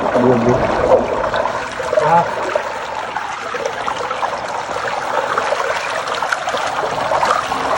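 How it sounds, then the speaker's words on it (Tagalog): A strong natural spring gushes water in a steady, loud rushing flow close by, continuous from start to finish. "wa gyud pagkabalda ang kusog nga bulog sa tinubdan niini"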